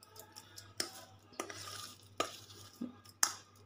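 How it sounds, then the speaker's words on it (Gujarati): Spoon stirring a dry spice mix of red chili powder and Kashmiri red chili powder in a bowl for fenugreek and gunda pickle, giving a few soft scrapes and clinks at an unsteady pace, close and quiet. "ત્યાં સુધીમાં મસાલા બધા આપણે મિક્સ કરી લઈએ"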